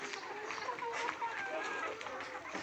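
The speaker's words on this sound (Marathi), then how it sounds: "हे आहेत आपल्या गावरान कोंबड्या" Desi gavran chickens cluck and call softly around a farm shed, with several overlapping faint clucks and chirps and a person's voice mixed in.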